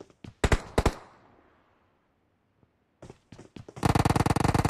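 Gunfire in a shooting video game: a few sharp, loud shots open the scene, followed by a short quiet stretch, then a rapid automatic burst of closely spaced shots at the end.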